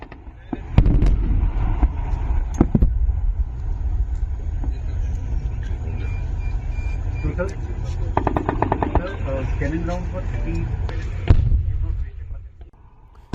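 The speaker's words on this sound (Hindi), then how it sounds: "इसमें आपको तोप दिख रही है, ड्रोन्स कैसे फोड़े जा रहे हैं, कैसे गोले दागे जा रहे हैं" Artillery guns firing and drones being blown up during a military exercise, with repeated loud booming blasts and rapid bursts over sustained rumbling, a voice talking over much of it.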